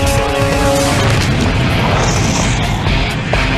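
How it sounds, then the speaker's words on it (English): A loud, roaring blast as a flammable propane mist from a truck ignites, a heavy rumbling boom that stays dense and sustained without letting up. "2 seconds later, the flammable mist ignites."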